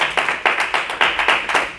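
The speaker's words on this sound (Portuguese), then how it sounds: "Palmas para Jesus, que ele merece." A church congregation claps in a steady, rhythmic beat, about six or seven sharp close claps in under two seconds, with no talking over them.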